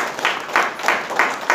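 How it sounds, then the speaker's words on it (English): A short burst of audience clapping in honor of unsung women, heard as a few rhythmic waves of claps pulsing at a steady beat, fairly loud and close. "I would love to clap for all the unsung women the world has not seen"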